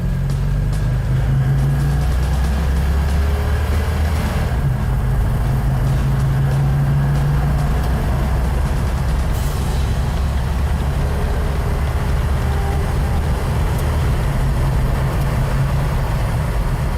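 A modified Plymouth Road Runner engine running steadily with a loud, continuous low rumble and a few slight shifts in pitch, close by, with no talk.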